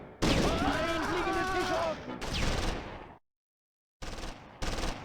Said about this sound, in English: The Schützenpanzer and Puma open up.